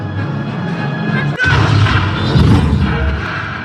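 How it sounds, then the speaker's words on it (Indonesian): A bomb explosion in the Spider-Man: No Way Home film erupts with a sudden sharp crack and then a loud, booming roar with crashing debris that rumbles on for a couple of seconds. "Ketika ledakan itu terjadi, ledakan tersebut membuat kotak Rune Kafka hancur"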